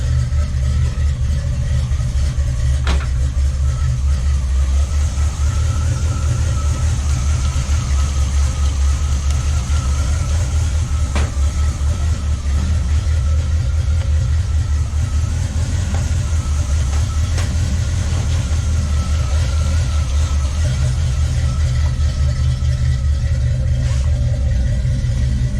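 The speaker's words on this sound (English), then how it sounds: "Oh, it'll definitely start now." A restored-project Oldsmobile Cutlass engine runs at a steady idle, a loud, continuous low rumble close by with no talking over it.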